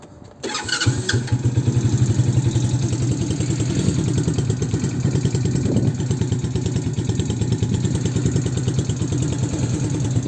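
A Revolt RC 110cc motorcycle, still being run in, fires up after a brief crank and settles into a steady, loud, close idle with a fast even putter that runs on without pause.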